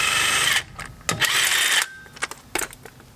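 An impact wrench drives lug nuts onto a Toyota Tacoma wheel in loud, whirring bursts: a long run, then a short burst, then a longer one, followed by a few brief quick rattles.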